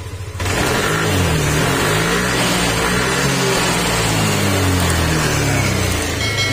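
A Yamaha Aerox scooter engine, smoking and burning oil, starts up after a brief pause and keeps running steadily close by, a loud, even mid-pitched idle with a slight rising rev partway through and no talk.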